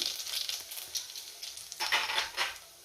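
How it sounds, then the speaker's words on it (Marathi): Mustard seeds, cumin, asafoetida and gram flour sizzle in hot oil in a pan, a soft continuous hiss with faint crackles and a stirring scrape swelling near the end. "तेल गरम झालंय, मोहरी आणि जिरे घालते. त्यातच आपल्याला हिंग घालायचं आहे आणि बेसन पीठ घालते मी."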